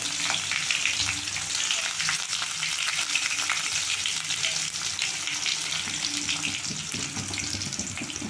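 Onions and green chillies sauté in a pan, a steady close crackling sizzle with faint stirring that continues evenly throughout.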